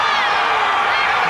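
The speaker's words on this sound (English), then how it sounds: "Crowd doesn't like it at all, but it's long." A volleyball crowd at a 1993 Baylor versus Texas A&M match reacts unhappily to a call with a steady, loud roar of disapproval, and a commentator talks over it.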